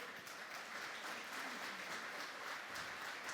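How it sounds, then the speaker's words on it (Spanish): Church congregation applause, a faint, distant but continuous roar of many people clapping together without a break. "Un fuerte aplauso a nuestro Señor."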